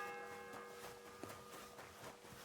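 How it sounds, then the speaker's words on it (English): Church bell tolling inside the medieval world of Kingdom Come: Deliverance II, a single strike with a long ringing sustain over a low ambient hum, moderately distant and faint. "The fourth bell."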